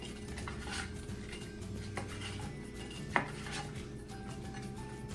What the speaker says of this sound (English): Let's hit it with a little of that boom boom sauce. Mix it up.